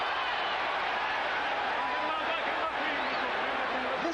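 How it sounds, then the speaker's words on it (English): A boxing crowd at the Mike Tyson vs Larry Holmes fight gives off a dense, steady roar that fills the arena, with a broad murmur of many voices holding throughout and no clear peaks. "Listen to the crowd now"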